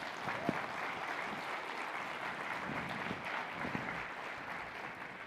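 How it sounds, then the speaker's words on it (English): An audience at a general session of a fall conference applauds, a steady wash of clapping heard from a distance at a modest, even level throughout. "Let's give her one more round of applause."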